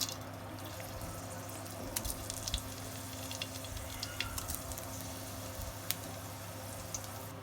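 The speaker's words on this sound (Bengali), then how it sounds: "তেলের উপরে প্রথমে দিয়ে দেবো শুকনা মরিচ" Dried chilies fry in hot oil in a wok, giving a steady, soft sizzle with scattered crackles and pops throughout and no voices.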